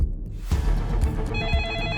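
A landline telephone rings with a steady electronic warble that rises out of a brief rustling noise and carries on close and clear.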